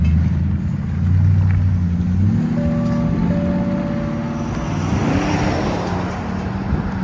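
A Toyota Tundra 5.7L V8 pickup with an aftermarket Flowmaster or Borla muffler drives past outdoors, its deep exhaust rumble steady and fairly loud against road and background noise.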